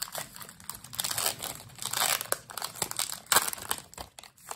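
Crinkling and tearing of a Pokémon Celebration booster pack's foil wrapper, close up, in irregular crackly bursts with sharp rips, fairly quiet and without speech.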